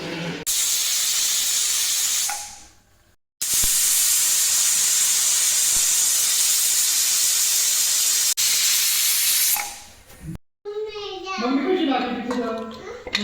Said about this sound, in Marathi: तीन शिट्ट्या झाल्या कुकर पूर्ण झाला